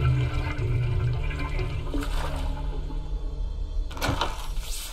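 Water draining away in the game Rise of the Third Power, a loud steady rushing and gurgling flow like a flush, with a couple of brief swells of noise, alongside game music.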